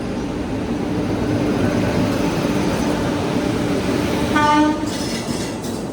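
A Howrah–Chennai train hauled by an electric locomotive rumbles past steadily, and a loud horn blast sounds near the end.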